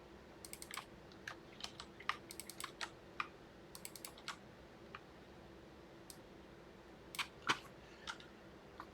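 Computer keyboard being typed on while writing game code: quiet bursts of quick, light key clicks with short pauses between runs, close but faint, no talking.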